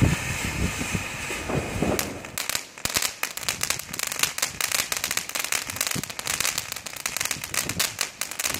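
A small Weco Höllenfeuer firework fountain burns outdoors in the wind, giving a dense, loud, continuous crackling and sputtering that starts up after about two seconds and keeps going to the end.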